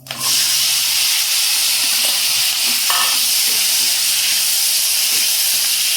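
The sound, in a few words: small onions frying in oil for dry fish gravy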